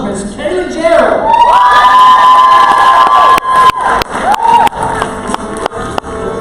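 A loud poetry slam audience cheers and whoops close by, then the roar breaks into scattered clapping and shouts.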